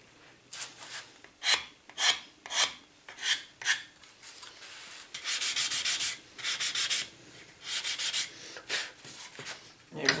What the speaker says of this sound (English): give the running edge a bit of a scrape and a sand.